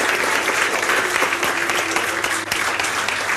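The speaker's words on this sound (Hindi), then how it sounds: "जोरदार तालियों से स्वागत करो।" Loud, dense applause from a classroom audience welcoming a teacher, with steady clapping filling the whole stretch and no pause.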